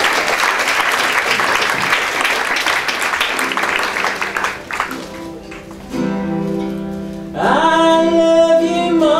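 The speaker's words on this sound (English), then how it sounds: "Please give him a big round of applause." Audience applause at a science communication competition rings out loudly for about five seconds, then fades out as a voice and music take over.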